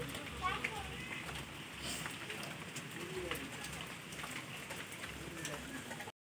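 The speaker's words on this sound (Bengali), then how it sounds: "দেখো বৃষ্টি শুরু হয়ে গেছে" Steady rain falls outdoors in a continuous, dense hiss of drops hitting surfaces, moderately close and fairly quiet, with faint background activity and no clear talk.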